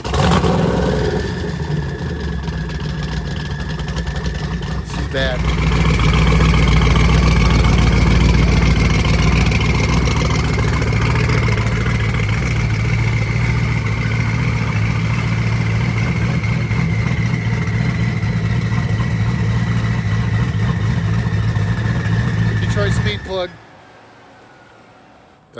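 A 1500 HP 2010 Chevrolet Camaro SS engine runs loud and close, a constant heavy idle rumble that swells as it revs, then cuts off abruptly near the end, with people talking over it.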